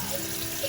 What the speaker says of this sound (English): go ahead and rinse them out with some water